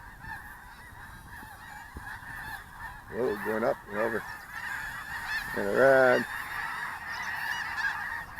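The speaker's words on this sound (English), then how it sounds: "those geese are getting loud, aren't they?" Geese honk repeatedly in a steady background chorus, with a few louder nearby honks standing out; someone speaks briefly over them.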